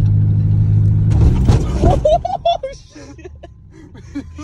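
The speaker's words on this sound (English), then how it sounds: "About to hit the speed bump." A Toyota car riding on hockey pucks rolls over a speed bump at about 20, a dull low rumble and thump followed by scraping clatter, with voices talking and reacting loudly over it.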